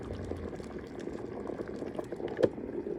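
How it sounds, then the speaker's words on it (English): A kettle of water at a full rolling boil gives a soft, steady bubbling churn at close range, with one brief clunk near the end. "Okay, it is full on boiling now."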